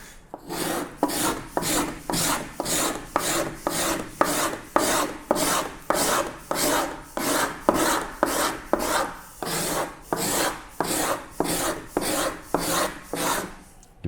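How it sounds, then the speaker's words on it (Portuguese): A rasp files across wood while a luthier builds a guitar, with loud, even back-and-forth strokes repeating in a steady rhythm of roughly one and a half per second, heard close up and alone. "Então eu vou raspando."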